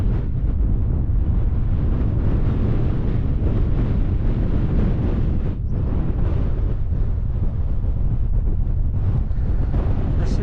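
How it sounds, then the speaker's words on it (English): Strong wind buffets the microphone without a break on the open summit of Wandope in the Buttermere fells, making a loud, steady low roar with gusty rumbling throughout. "although it is rather breezy"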